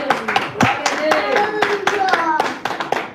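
A church congregation claps along in sharp, fairly loud bursts of hand claps, mixed with voices speaking and calling out over the clapping.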